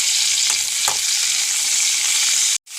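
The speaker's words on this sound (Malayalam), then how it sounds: "വെണ്ടക്കായ ഒന്ന് വാട്ടിയെടുക്കാം" Okra sautéing in oil in a pan, a loud steady close sizzle with a couple of soft stirring scrapes, cutting off abruptly near the end.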